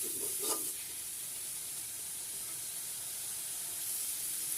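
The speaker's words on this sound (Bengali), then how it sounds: "চিংড়ি মাছটা দিয়ে মশলার সাথে কিছুক্ষণ কষিয়ে নিব ভালো করে" Shrimp with spices sautéing in a pan for a Bengali pea-shoot shrimp curry, a soft continuous sizzle and hiss with a faint stir at the start, quiet and steady throughout.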